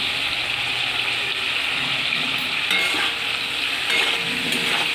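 Mixed vegetables frying in a pan with salt and turmeric for a thin magur fish curry, giving a steady close sizzle with stirring scrapes and a few brief clinks, no talking.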